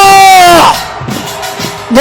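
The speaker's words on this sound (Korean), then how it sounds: "전방에 함성 5초 발사!" A chanting political rally crowd in Seoul is heard briefly, with a loud amplified voice calling out before and after a short burst of distant crowd shouting and cheering.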